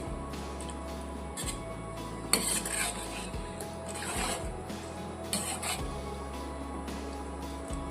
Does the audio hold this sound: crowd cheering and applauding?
no